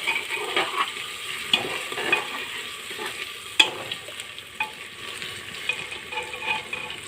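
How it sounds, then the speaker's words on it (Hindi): Ginger-garlic paste sizzles steadily in a hot pan while a spoon stirs it, with scraping strokes and small clinks recurring every second or so over the continuous frying hiss. "इसको थोड़ा सा भून लेंगे ताकि लहसुन की अच्छे से भून जाए"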